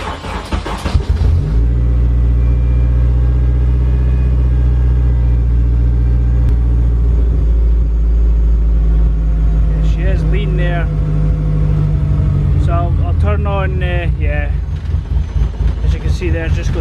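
A K-swapped Mazda FD RX-7 engine fires up and settles into a loud, rough idle around 1800 RPM, a deep steady rumble with slight wavering, while voices talk over it toward the end.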